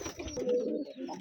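Two handsome pigeons kept at a pigeon farm in Rajshahi coo close by in a soft, rolling, continuous murmur, steady and fairly loud for the whole short stretch.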